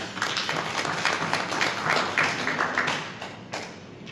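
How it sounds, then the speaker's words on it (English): A room full of people claps steadily at a Zimbabwe pre-budget seminar, a dense patter of applause that swells briefly then starts to fade toward the end. "Let's give him a round of applause."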